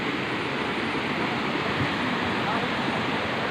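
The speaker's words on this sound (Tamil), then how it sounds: "கீழே நீர்வீழ்ச்சி பாருங்கள், நீர்வீழ்ச்சி கீழே." Waterfall tumbling down through a forest near a Shiva temple, a steady, loud, broadband rush of falling water filling the whole clip without pause.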